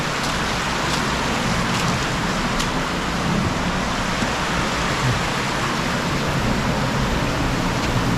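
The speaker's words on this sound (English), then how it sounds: "It's a little waterfall in there, very pretty" A stream and small waterfall in a cave produce a steady, full rush of splashing water, close and even throughout with no pauses.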